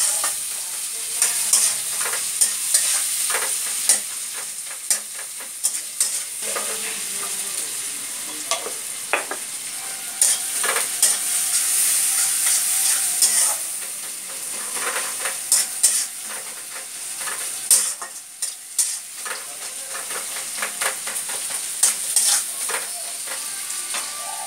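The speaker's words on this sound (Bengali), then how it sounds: "কুচনো পেঁয়াজ দেওয়া হচ্ছে। পেঁয়াজগুলো নাড়তে থাকা হচ্ছে যেন হালকা গোল্ডেন ব্রাউন কালার হয়" Chopped onions frying in a pan and stirred steadily toward golden brown, a constant hissing sizzle with frequent spatula scrapes and clicks, close and prominent, with no one talking.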